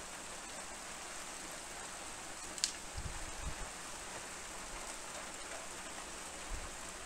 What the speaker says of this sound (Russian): А вот и обещанный дождик.